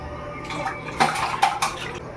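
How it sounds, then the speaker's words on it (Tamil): Chopped green onions get rinsed in water, with quiet sloshing and splashing plus a few light clinks from a bowl over a short moment. "அலசி வச்சிடலாம்"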